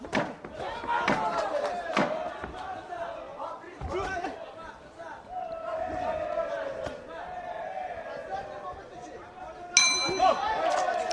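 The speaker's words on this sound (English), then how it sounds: "There goes the bell at the end of round 1." A boxing bell clangs to end round one of a 60 kg men's bout at the 2025 IBA World Boxing Championships, ringing over crowd noise and a commentator's voice, with a bright ding near the end.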